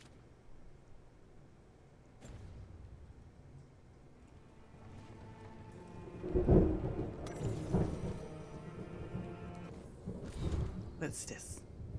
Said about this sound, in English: Oh man, that thunder!